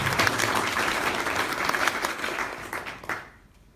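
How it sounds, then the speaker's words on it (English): Audience applause at a cancer support service launch in North Lanarkshire, a dense burst of clapping that runs steadily then tapers off and stops near the end. "Give you a round of applause."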